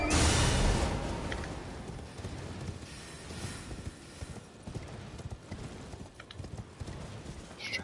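Horse hooves gallop in the Elden Ring video game, a rapid continuous clip-clop that stays close and fairly loud under a broad rumbling wash of game ambience, with no talking.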